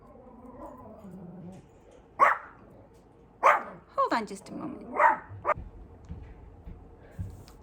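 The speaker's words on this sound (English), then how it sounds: "there goes the dogs." Dogs bark in several loud separate bursts close by inside a home, mixed with someone talking over and between the barks.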